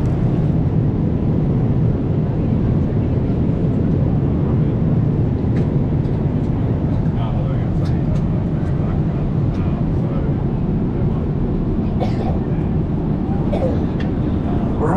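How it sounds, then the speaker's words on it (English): Airplane cabin noise, a constant low engine drone and airflow rumble holding steady throughout, with faint voices and small sounds occasionally rising above it. "We're on the plane."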